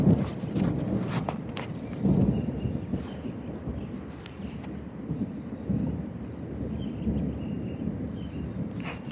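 Thunder rolls and rumbles through a steady wash of rain during a thunderstorm cell in Garretson, South Dakota, with several louder rumbles swelling and fading over the sustained low roar.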